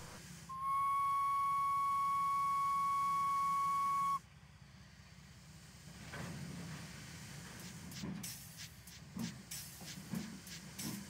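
Guard's whistle blown for a steam engine on a railway line, a long steady shrill whistle followed by hissing and uneven chuffing bursts as the engine puffs away.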